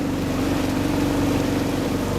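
Steady low engine drone of a sailboat motoring under engine in the Berry Islands, Bahamas, a continuous near hum with no talk.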